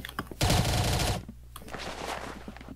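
Rapid machine gun fire in the video game Arsenal, a loud dense burst lasting under a second, followed by quieter scattered shots and game noise.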